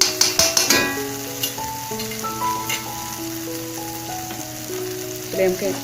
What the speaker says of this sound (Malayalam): ഇനി നമുക്കിതിലേക്ക് പൊടികൾ ചേർത്തൊന്ന് മൂപ്പിച്ചെടുക്കാം